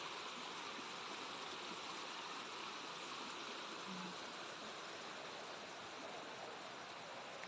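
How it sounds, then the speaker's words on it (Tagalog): A wide river rushes steadily past farmland in Liliw, Laguna, its broadband flowing-water noise loud and constant with no talk over it. "So, ang ganda ng ilog kasi malawak."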